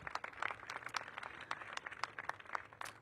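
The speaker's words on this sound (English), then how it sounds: "Please give them all a big round of applause." A downtown DC audience gives a scattered round of applause, individual claps distinct and fairly quiet, with no speech over it.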